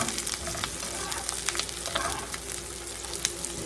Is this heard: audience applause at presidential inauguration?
no